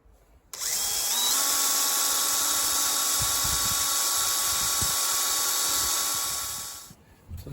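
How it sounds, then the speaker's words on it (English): A power drill bores holes into the body of a Land Rover Discovery 2, a loud, steady high-pitched whine running for about six seconds before winding down and stopping. "I drill holes there, and I'll show you in a minute why"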